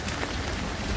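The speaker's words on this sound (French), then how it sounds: "la pluie a commencé à tomber" Rain begins falling on a grey morning during a holiday in Mauritius, a steady, dense hiss of drops on surfaces that fills the short moment without any voices.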